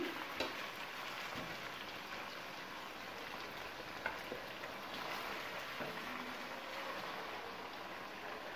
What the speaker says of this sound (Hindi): चिकन को फ्राई करते हुए तकरीबन 4 मिनट हो चुके हैं।